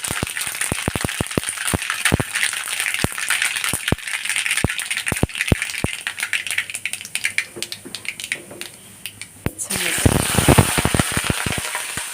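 Rapid, irregular crackling and popping of mustard seeds spluttering in hot sesame oil, close and sharp over a sizzling hiss, with no talking.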